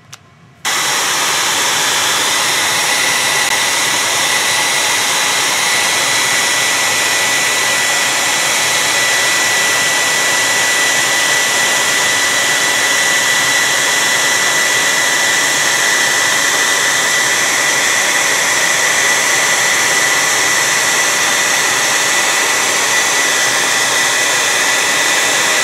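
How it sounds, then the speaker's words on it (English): A loud hair dryer switches on abruptly and blows in a steady, unbroken roar for the rest of the clip, heating a protective film to peel it off a bike frame. "Let's try the hair dryer and we'll pull it the rest of the way off."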